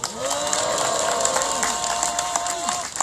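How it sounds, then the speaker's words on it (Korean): A crowd at an anti-THAAD peace rally claps and cheers in a sustained burst of applause, with a speaker's voice and some tonal sound running faintly underneath. "현재 법적 투쟁을 하고 있는 분들을 위해 큰 박수 주시기 바랍니다"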